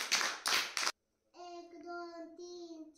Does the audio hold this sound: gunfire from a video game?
no